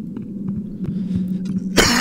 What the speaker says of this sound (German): Entschuldigung fürs Husten